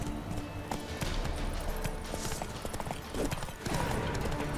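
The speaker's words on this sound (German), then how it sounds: "über Feld und Wiesen galoppieren, glücklich mit Plötze" A horse gallops in The Witcher 3 video game, rapid rhythmic hoofbeats clip-clopping steadily over open fields, close and loud with some ambient game noise.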